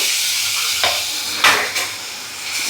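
Beetroot sautéing in ghee for halwa gives a steady close sizzle, with a few brief scrapes and stirs of a spoon against the pan rising above the frying hiss.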